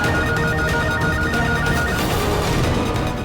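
A telephone rings in a house, a steady electronic ringing tone filling the short stretch at even loudness with no one speaking over it.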